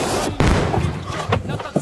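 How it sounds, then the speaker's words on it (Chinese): Gas cylinder and car blowing up in succession outdoors, several sharp booms and thuds one after another, loud and close, with rumbling noise between the blasts. "煤气罐和车连续发生爆炸"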